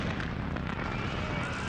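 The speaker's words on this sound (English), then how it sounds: "The gas line explodes into a massive fireball" A buried natural gas line at an asphalt plant erupts into a massive fireball, giving a dense, sustained roar of broadband rumble and crackle that stays steady and loud throughout without a break.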